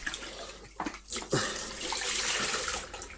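Water rinsing through a Philips Triathlon 1300 carpet cleaner during a rinse-out after shampooing, a steady washing splash with a few sharper gushes, close and moderately loud with no talking.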